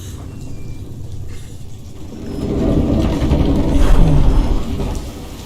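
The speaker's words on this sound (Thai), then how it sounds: "ฝนตกอีก" Heavy rain falls in the video game Hellblade, a broad steady wash of downpour that swells louder midway through, with low rumbling beneath and no talking.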